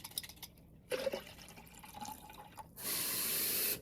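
Water trickles and splashes around small sprouting seeds in a container, then a tap runs steadily with a hissing rush for about a second.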